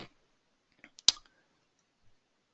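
A few isolated mouse clicks ring out in a quiet room while a button is pressed in CAD software. They are sharp, close and separated by silence, with one louder click near the middle.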